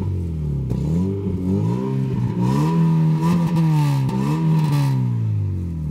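A 2.0 8v car engine with a custom exhaust revs up and down several times, each rise and fall in pitch loud and close, with a rough exhaust burble between the blips.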